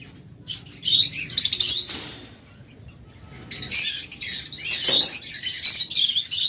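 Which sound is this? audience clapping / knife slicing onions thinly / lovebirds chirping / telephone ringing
lovebirds chirping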